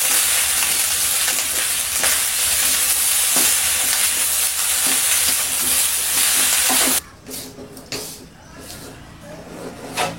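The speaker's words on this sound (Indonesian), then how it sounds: "Jadi nasi gorengnya saya aduk-aduk terus sampai nasi gorengnya tuh matang" Loud sizzling from frying food with scraping stirs in a pan, then the sizzle cuts off abruptly, leaving quieter clatter and scrapes.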